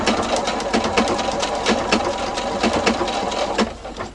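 Up close, an industrial Juki sewing machine stitches through bulky quilt scraps with a rapid, rhythmic mechanical chatter of repeated needle strokes, steady and loud with no talking.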